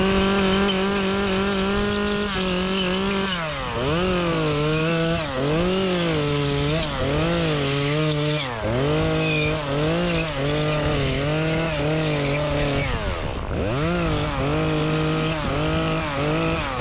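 A chainsaw cutting tree branches, its engine droning steadily and loudly with repeated revving dips and rises as the chain bites into the wood, continuous for the whole stretch with no talking.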